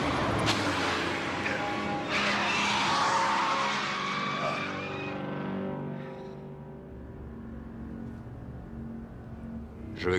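A car accelerating hard with tires skidding and squealing, loud and continuous for several seconds before the engine roar fades slightly, then a fresh burst at the end.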